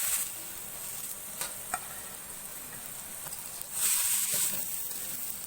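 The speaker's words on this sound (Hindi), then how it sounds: "टमाटर के प्याजों को थोड़ी देर भून छोड़ सूँ।" Tomatoes and onions fry in a pan for an egg curry, a steady soft sizzle running throughout, briefly louder near the end, with a few faint clicks and no talking.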